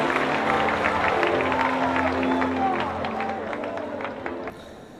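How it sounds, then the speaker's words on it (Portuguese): A church congregation applauds, a dense, sustained wash of clapping from many hands mixed with crowd babble, gradually thinning toward the end. "tomem seu assento, glorificando e aplaudindo a Jesus"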